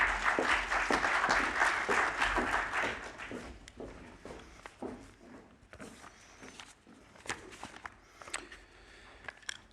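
Audience applause welcoming a speaker to the stage at a global governance talk, a dense crowd clapping loudly at first, then thinning into scattered individual claps that fade toward the end.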